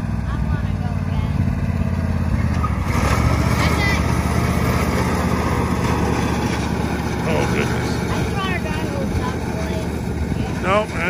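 Lawn mower running while cutting tall grass, a continuous rough engine drone that sounds underpowered, steady and fairly close, with people talking over it.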